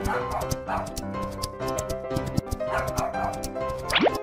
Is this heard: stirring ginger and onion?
no